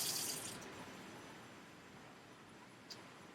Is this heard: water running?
yes